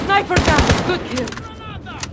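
Rapid bursts of automatic gunfire in Call of Duty: Modern Warfare, loud and close, a quick rattling volley that fades into scattered shots with game chatter mixed in.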